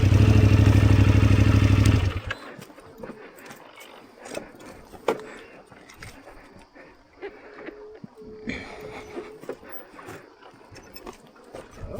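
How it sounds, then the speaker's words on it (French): An off-road motorcycle engine runs loudly for about two seconds on a rocky single-track descent. Quieter clattering and shuffling follow, with no clear restart after that. "tu redémarres, tu mets un coup de démarreur"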